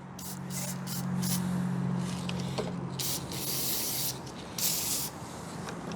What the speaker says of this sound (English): Let's give her a squirt of the old Superior lubricant here. Tri-Flow, because she feels dry as anything in there.